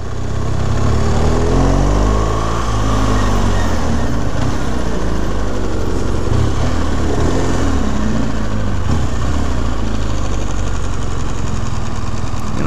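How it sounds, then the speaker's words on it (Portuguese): BMW 1200 motorcycle engine revving and accelerating up close, a loud continuous roar with rising and falling pitch sweeps and no voices. "Ela vai ver esse motor da 1200 acelerar pra Anhanguera."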